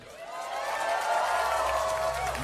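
A club crowd at Boiler Room Berlin's fifth anniversary, welcoming a DJ with sustained clapping and cheering that swells and holds, with whoops and whistles over the crowd noise.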